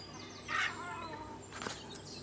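Chickens on a village poultry farm, a couple of brief clucks and calls at moderate distance over a noisy background, fairly faint.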